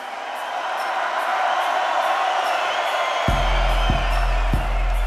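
A festival crowd at a concert roars and cheers continuously, a broad, sustained wash of voices, with deep bass thumps from the sound system entering near the end.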